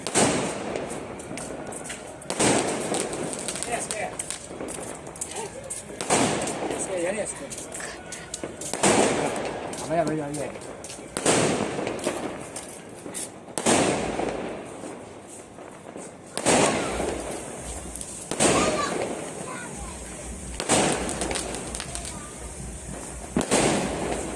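Firecrackers set off outdoors during a family gathering, loud sharp bangs recurring every few seconds over a background of crowd noise and voices, some blasts near and others further off.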